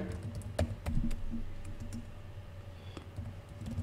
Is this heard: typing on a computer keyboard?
yes